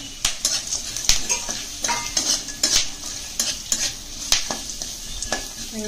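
Puffed rice is tossed with roasted peanuts and onion in a bowl, giving a close, rhythmic scraping and clinking of a spoon against metal with dry rustling, steady for several seconds without talk.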